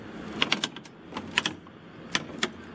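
The height-adjust lever on a Greenworks 60-volt Pro self-propelled lawn mower clicks through deep detents, a handful of crisp plastic-metal clicks in small clusters, close and fairly quiet.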